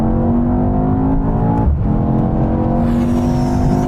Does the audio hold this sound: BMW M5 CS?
yes